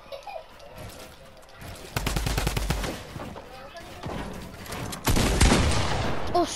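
Rapid bursts of video game gunfire crackle in close, loud clusters, including a shotgun, with dense rattling volleys separated by short lulls.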